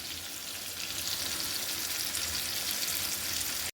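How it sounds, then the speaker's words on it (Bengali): Fish fries in hot oil in a pan after being turned so both sides crisp, bound for a thin fenugreek fish curry; a dense, steady sizzle runs close and loud throughout with no voices. "মাছ কিন্তু আমি এক পিঠ ভালো করে ভেজে অন্য পিঠও উল্টে দিয়েছি"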